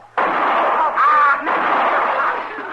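A loud gunshot-like blast bursts out in a western saloon, followed by sustained rumbling crackle and a brief shifting roar, heard up close with no clear talk.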